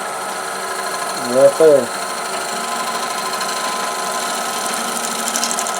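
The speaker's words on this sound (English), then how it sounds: "I start out with the bevel against the bowl, and then I just turn it until I start pulling and shaving." A wood lathe gouge shaves the inside of a naturally pierced bowl, giving a steady, close cutting hiss over the running lathe, with a brief spoken remark partway through.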